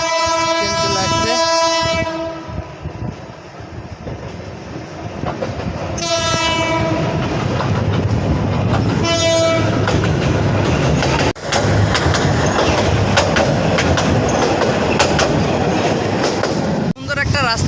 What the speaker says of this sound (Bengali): এই মুহূর্তে ট্রেন আমাদের এদিকে চলে আসতেছে।